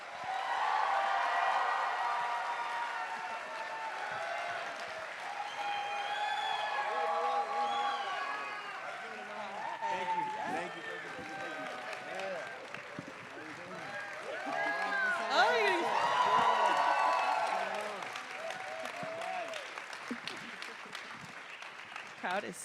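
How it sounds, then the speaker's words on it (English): Excited audience cheering and applauding at a film Q&A event, a sustained loud wash of claps and shouts that swells again midway, with talk woven through it. "Crowd is so excited."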